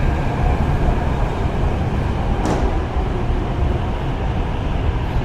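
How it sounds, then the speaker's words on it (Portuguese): A São Paulo metro train roars steadily through a station as it arrives, a loud broadband rumble with one brief sharp squeal midway and no voices. "E o nosso metrô já chegou, aqui é bem rápido."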